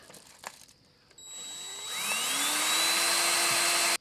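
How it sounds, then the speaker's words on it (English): A power drill with a small bit bores a pilot hole through a van wall. After a few faint clicks, the motor spins up into a loud, rising whine that holds steady close by. "First, I'll try to drill a pilot hole with this smaller bit."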